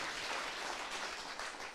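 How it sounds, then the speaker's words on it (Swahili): An audience applauds for Honourable Mburu at a Kiambu county gathering, steady crowd clapping heard faintly and continuously with no speech. "Tumpigie Mheshimiwa Mburu makofi mazuri."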